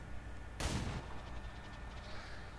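A single gunshot from the XCOM 2 video game: one loud, booming blast with a short rumbling tail, set against steady low background game ambience.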